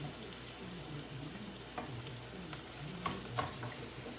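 Ground beef and broccoli casserole mixture sizzles in a small frying pan while being stirred, with a steady frying hiss and a few scraping clicks of a utensil against the pan, with no voices.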